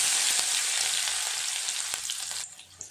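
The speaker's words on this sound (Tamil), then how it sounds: "நல்லா வதக்கி விட்டுக்கலாம்" Crushed garlic and shallots sizzle and fry in a hot pan, a steady close hiss that eases off toward the end, broken by a faint stir or two.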